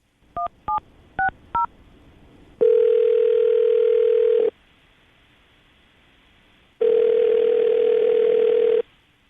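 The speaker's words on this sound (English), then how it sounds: "we'll call her right now, see if we can get her on the phone." Four quick touch-tone dial beeps, then two long steady ringing tones of an outgoing phone call, separated by a pause.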